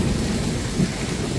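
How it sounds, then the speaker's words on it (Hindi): Heavy monsoon rain pours down at a village market in Uttarakhand, a dense constant roar with low rumbling underneath and no talk. "झमाझम बारिश यहाँ पे हो रही है"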